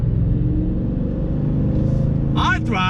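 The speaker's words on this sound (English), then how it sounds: "You got the V8 growl" A 2021 Ford F-150 XLT Sport with a V8 accelerating on the road, a deep steady engine growl heard from inside the cab, with a brief burst of talk near the end.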